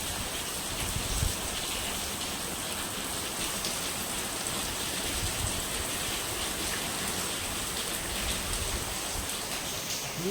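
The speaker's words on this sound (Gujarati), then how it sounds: "વરસાદ આવ્યો" Rain pours steadily on a rainy night, a dense, even hiss of drops on surfaces that holds constant and fairly distant with no breaks.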